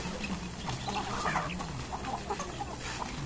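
Chickens cluck steadily near a hillside garden hut, with a dense mix of clucks and calls over a constant outdoor noise bed.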